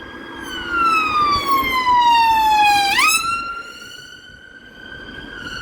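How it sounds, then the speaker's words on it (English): A loud ambulance siren wails with a descending tone that jumps back up and falls again, passing close by over light traffic rumble in Hendon, London. "Ambulance."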